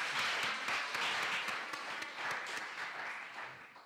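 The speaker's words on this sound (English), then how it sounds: "Yes, there was a clap." A small audience at a talk applauds, a burst of steady clapping that gradually fades away.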